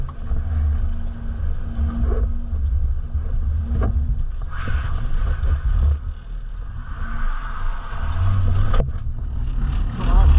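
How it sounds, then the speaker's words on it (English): A freshly built Volvo drift car skidding through large puddles with the handbrake pulled on a wet track, a loud continuous engine rumble with washing water spray surging over it, up close. "pulling the handbrake and skidding through massive puddles"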